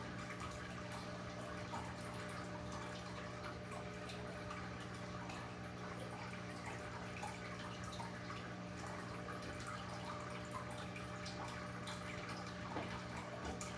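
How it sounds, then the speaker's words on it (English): Water pours and gurgles steadily as a fish tank is drained all the way down for a complete water change, with a constant pump-like hum running underneath, close and even throughout without pauses. "I drain it all the way down folks and empty the tank"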